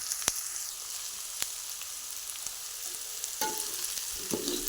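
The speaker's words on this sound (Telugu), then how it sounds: "కొద్దిసేపు మామూలుగా వేయించాలి." Drumstick pieces fry in a pan, giving a steady close sizzle with a few sharp clicks of a utensil and brief stirring scrapes toward the end, with no one talking.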